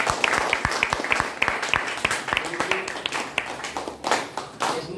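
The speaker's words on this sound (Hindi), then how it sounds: "केशमारी मैडम के एक बार जोरदार ताली बजाइए।" A small audience claps loudly for a woman presenter, with distinct, sharp individual claps in a quick irregular stream, close and fairly sparse rather than a dense roar, fading toward the end.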